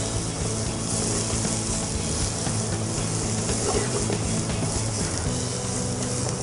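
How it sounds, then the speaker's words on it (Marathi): Onion and chopped red pumpkin fry in a pan with a steady, close sizzle and occasional stirring scrapes, the hiss continuous and even throughout. "ऑनियन व्यवस्थित भाजून घ्यावे।"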